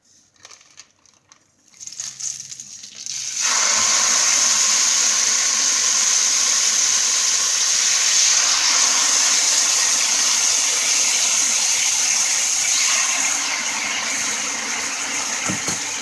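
Marinated chicken breast hits a hot pan of olive oil and settles into a loud, steady sizzle with a bright hiss that holds for the rest of the stretch, close up and with no talking.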